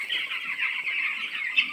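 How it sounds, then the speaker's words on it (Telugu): Chicks cheeping in a poultry farm shed in the evening, a dense continuous chorus of high, thin peeping from many birds at moderate distance, with no talk. "కోడి పిల్లలు చూడండి ఎలా ఉన్నాయో."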